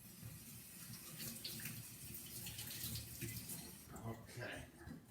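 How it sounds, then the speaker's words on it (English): A kitchen tap runs while someone washes their hands before cooking, giving a quiet, steady splash of water with shifting bursts as the hands move under the stream and faint background sounds. "now we take this out and I want to wash my hands first"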